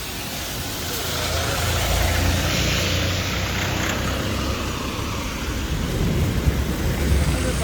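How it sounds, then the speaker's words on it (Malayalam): Steady rain pours down in a place where rain is usually rare, a dense, even hiss throughout with a low rumble underneath that may be distant thunder; no one speaks. "ഈ നാട്ടിൽ പൊതുവെ മഴ പെയ്യാറില്ല, പക്ഷെ ഇന്നിവിടെ മഴ പെയ്യുന്നുണ്ട്"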